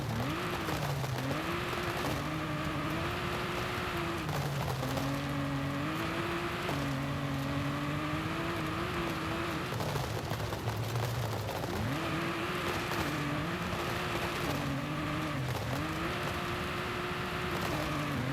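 Tires squeal almost nonstop over a droning racing engine in the video game Forza Horizon 5, with pitch rising and falling as the car corners, loud and continuous.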